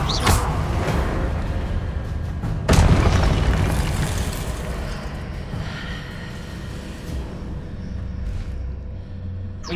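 A Repulsor spell blast in Hogwarts Legacy lands as a deep booming burst with a rumbling tail, part of a loud stretch of magical combat with other thumps and whooshes.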